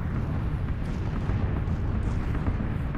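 Bomb explosions in the video game PUBG form a dense, continuous low rumbling roar, loud and unbroken, with no talking over it.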